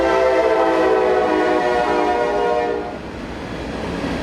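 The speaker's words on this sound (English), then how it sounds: "He also owned a train that came through Buechel at times" A train passing through Buechel in Louisville, Kentucky sounds its horn loudly and steadily for about three seconds, the chord then dropping away into a rolling rail rumble.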